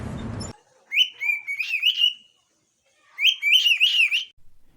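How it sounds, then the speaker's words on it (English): A cockatiel gives two loud, shrill bursts of screeching calls separated by a short pause, with a brief noisy rustle at the start. "It's a bird that gets scared easily, which causes him screaming loudly."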